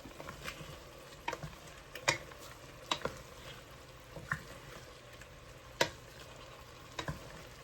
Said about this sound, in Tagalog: Then, haluin nyo konti.